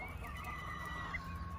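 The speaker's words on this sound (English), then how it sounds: "That's a chicken, don't worry. I think she just laid an egg." A hen that has just laid an egg clucks and calls steadily at a distance, faint and continuous against an outdoor farmyard background.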